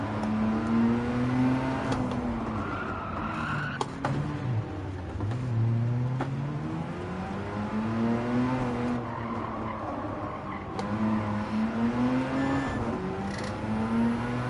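Race car engines in Gran Turismo 7 rev and rise in repeated waves, with tire squeal and skidding, loud and continuous across the whole stretch.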